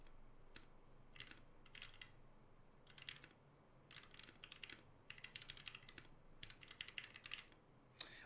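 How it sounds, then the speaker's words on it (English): Typing on a Preonic Rev3 hotswap mechanical keyboard fitted with c³ Tangerine switches, close and fairly quiet bursts of crisp key clacks in uneven runs separated by short pauses, with no voices. "Let me mute the music so we can also listen to the keyboard."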